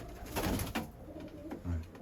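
Iraqi pigeons kept in a loft in Germany coo close by in soft, throaty bursts, two or three low rolling calls over a short span with faint background noise.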